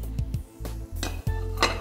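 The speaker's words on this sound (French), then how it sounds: "on verse nos courgettes en dés dans la casserole. On ajoute le poivron vert" Diced courgettes and green pepper tip into a saucepan with a little oil, a few sharp clatters and scrapes of utensil on metal with soft sizzling, close and clear.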